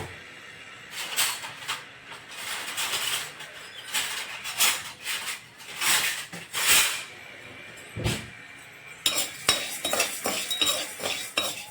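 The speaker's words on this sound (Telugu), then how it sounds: "ఇప్పుడు దీన్ని కందిపప్పుని కలుపుతామండి, కలుపుతూ వేయించుకుందాము." Toor dal being dry-roasted and stirred in a pan with a metal spoon, close scraping and clinking strokes in an irregular rhythm with a soft rattle of lentils, no talk.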